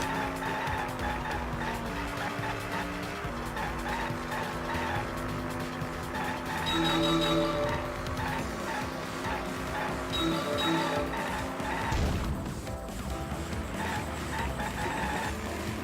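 A car in a Danganronpa V3 driving minigame skids and squeals its tires continuously, engine droning loudly, with game music running underneath and a sharp shift near the end.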